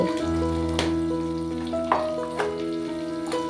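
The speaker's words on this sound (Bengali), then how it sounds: "লঙ্কা গুঁড়ো আর হলুদ গুঁড়ো দিয়ে ভালো করে তেলের সাথে আরও কিছুক্ষণ ভেজে নেব" Chopped tomato frying in hot oil with dried chili and turmeric, a steady close sizzle with a few soft stirring clatters, no voices.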